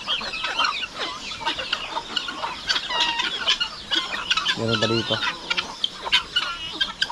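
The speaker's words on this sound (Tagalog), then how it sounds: "Marami na po tayong mga manok dito na lalaki na pwede pang katay." Farmyard chickens, including roosters, clucking and calling in bursts, some close and some farther off, with a brief crow in the middle; someone speaks briefly over the birds.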